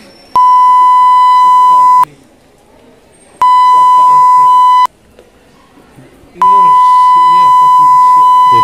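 Three loud, pure censor beeps, each lasting one to two seconds, cut over speech in a rowdy high school setting, with agitated talking heard in the gaps between them.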